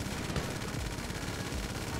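Rapid gunfire in a GTA 5 shootout, a dense continuous rattle of shots filling the whole moment at moderate level, with no voices over it.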